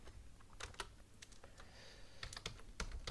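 Code is typed on a computer keyboard for an Excel VBA macro, with quick, close, crisp key clicks in irregular bursts, some strokes louder than others, and no talking.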